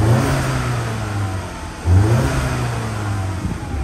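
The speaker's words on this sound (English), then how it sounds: "nice little turbo sound to it, very neat" A 2022 Ford Mustang EcoBoost with a 2.3-litre turbo four idles close by, its steady mid-pitched hum swelling with a short rev around the midpoint before settling back, heard alone outdoors.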